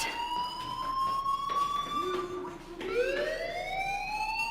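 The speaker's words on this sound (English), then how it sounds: "do you hear that fire alarm? That means you should be outside." Fire alarm in the Life is Strange video game, a loud electronic siren wailing continuously with rising and falling pitch sweeps, heard alone without voices.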